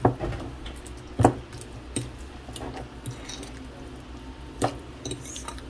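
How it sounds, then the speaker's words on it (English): Mashed avocado with lemon juice, salt and black pepper stirred in a bowl with a utensil, giving soft squishy scrapes and a few sharp clinks against the dish, close and fairly quiet with no talking. "Now I'm gonna give that a stir."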